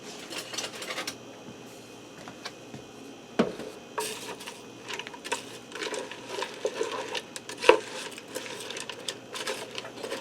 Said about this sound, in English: let me grab a spoon and we'll give that a stir